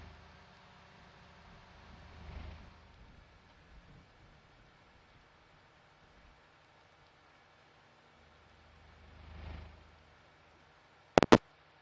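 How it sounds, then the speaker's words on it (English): Steady rain falls in Farming Simulator 19 as a soft, even hiss that swells gently twice, with no talk, and ends in two sharp clicks. "And it will continue raining all day."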